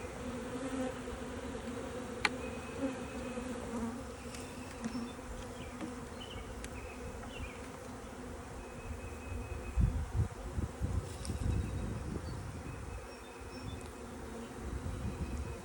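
Honey bees swarm and buzz steadily around a hive opened for its first spring inspection, a dense continuous hum close by with no talking, a few brief knocks and clicks from frame handling mixed in.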